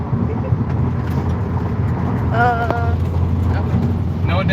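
Loud, steady road and engine roar inside a 2020 Subaru WRX cruising on a noisy highway section, a constant low rumble with a brief whine as other traffic passes, no speech over it.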